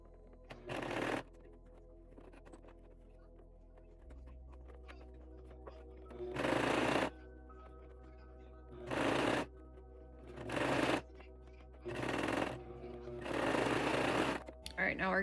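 Sewing machine stitching fabric pieces of a memory bear, five bursts of rapid whirring stitching separated by pauses, close and fairly loud, with a low steady motor hum between.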